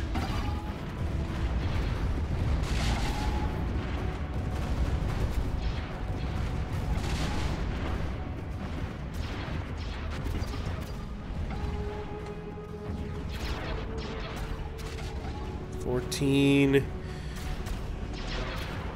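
Missiles strike ships in a Stellaris space battle: a dense, continuous barrage of rumbling booms and crashing impacts over a low drone, with one sharper, louder burst near the end.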